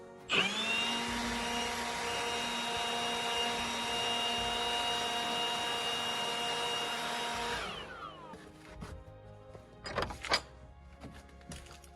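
Electric blower used to blow dust off surfaces in a shop, a loud steady whining motor roar for about seven seconds that winds down, followed by scattered knocks and clatter.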